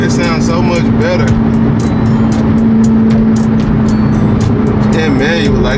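An Audi with a manual gearbox idles and rumbles in traffic, a steady low engine drone running continuously with a talking voice over it.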